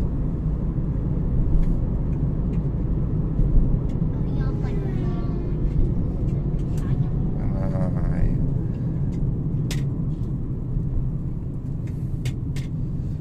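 A Mitsubishi Outlander Sport PX climbs a hill at a steady 1500 rpm and about 60 km/h, a low, even engine and road rumble heard from inside the cabin while someone talks over it.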